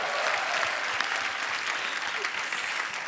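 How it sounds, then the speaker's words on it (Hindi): A studio audience on a comedy talk show breaks into loud, dense, continuous applause that fills the whole stretch without letup. "जोरदार तालियां हो जाए एक बार"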